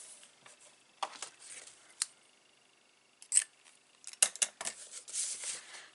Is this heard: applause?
no